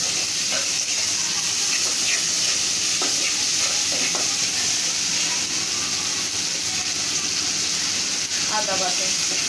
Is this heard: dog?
no